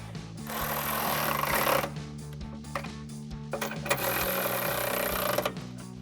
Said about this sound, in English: And then I'm going to take a 16mm socket and tighten these down.